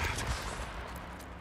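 Rapid gunfire from the video game Days Gone, a dense burst of shots rolling on for about a second and a half at steady, moderate loudness.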